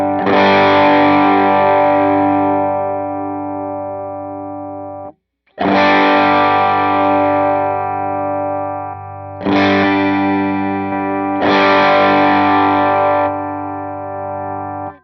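Electric guitar played through an HX Stomp amp model with distortion, four loud sustained strummed chords, each ringing out and decaying before the next strike.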